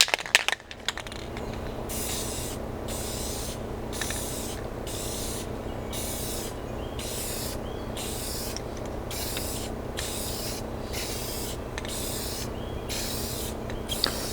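Spray paint goes onto an old dresser in a steady series of short bursts, each about a second long and evenly spaced, over a constant low background hum.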